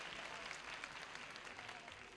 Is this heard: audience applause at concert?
yes